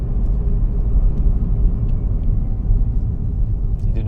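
A Hyundai Inster car accelerating gently, a steady low rumble of road and drive noise heard from inside the cabin, even and moderately loud with no voices.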